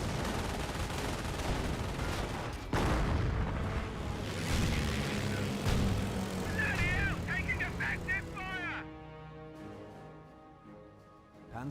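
Artillery barrage explosions in the Company of Heroes video game, a dense rumbling stream of blasts and gunfire, loud and continuous, with a commentator talking over it throughout.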